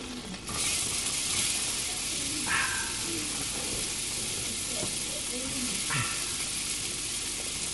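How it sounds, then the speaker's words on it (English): Steady hissing sizzle of butter in a hot pan before onion is added, continuous and close, with a couple of faint clinks over the crackle. "That's the sound we're waiting for. Butter sizzling."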